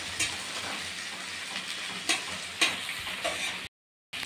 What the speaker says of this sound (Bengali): প্রথমে একটু হালকা করে পেঁয়াজটাকে ভেজে নেব।